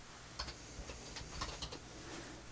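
Computer keyboard keys tapped while entering a command at a Windows command prompt, a few scattered clicks close by and faint, no talk.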